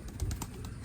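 Pigeons coo in low, soft, throaty murmurs, a steady burbling close by with no talking.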